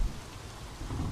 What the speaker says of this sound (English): Rain after what happened last episode is pretty accurate, man.